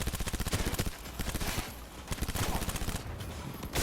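Fenrir submachine gun in Cyberpunk 2077 firing in rapid sustained bursts, a dense run of sharp close shots that continues through the whole stretch with only brief dips.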